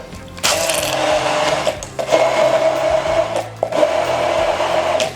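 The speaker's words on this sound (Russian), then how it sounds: "И перебиваем все это дело блендером." A kitchen blender whirs through yogurt and garlic for tzatziki sauce, a loud steady motor whine running in close bursts with brief dips as it pulses.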